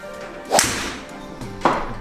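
A fairway wood golf club strikes a ball twice during a fitting session. Each hit is a sharp, crisp crack with a brief ringing tail, spaced about a second apart at close range.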